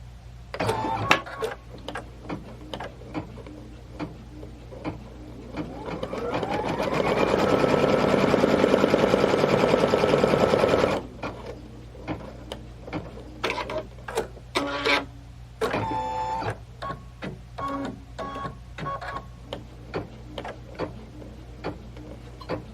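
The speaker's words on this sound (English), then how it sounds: "stitch down our little circles for our placement lines" A computerized embroidery sewing machine stitches small placement-line circles onto stabilizer, a steady fast mechanical whirring and needle clatter lasting several seconds in the middle, with scattered clicks and handling noises before and after.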